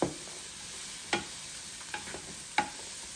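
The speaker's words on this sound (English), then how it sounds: "Stir that up like that" Onions and mushrooms stirred in a Power XL electric cooker for Salisbury steak, a soft continuous sizzle with a few sharp utensil clicks and scrapes against the pot, close by and without talk.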